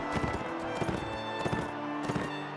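Horse hooves in the video game Mount and Blade: Warband, a steady quick clip-clop of galloping strides repeating several times a second, moderately faint against a sustained background of game sound.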